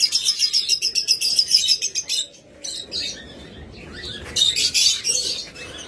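A pair of pure blue Fischer's lovebirds chirps in rapid, shrill bursts of repeated tweets close by, briefly pausing and then resuming loudly, with no voices.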